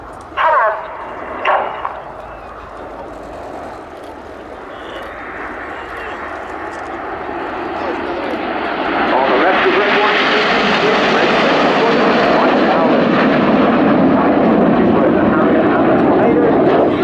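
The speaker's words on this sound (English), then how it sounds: "The aircraft now has moved into one of our most technically difficult formations with 6 aircraft all in line abreast" Red Arrows jets fly a line-abreast formation at the Royal International Air Tattoo, their engine roar building from a distant rumble to a loud, sustained wash as the formation approaches.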